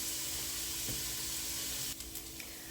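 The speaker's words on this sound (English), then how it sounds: "we're going to let our onion cook now for about 3 to 5 minutes until it's just softened" Onions sizzling as they soften in a pan, a faint, even hiss throughout with a few small pops and a soft clink near the end.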